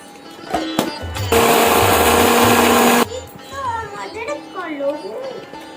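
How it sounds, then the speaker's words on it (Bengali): A mixer grinder whirs loudly for about two seconds, grinding poppy seeds for aloo posto in a village kitchen, with someone talking before and after the burst. "এখন আমি পোস্তটা বেটে নেবো।"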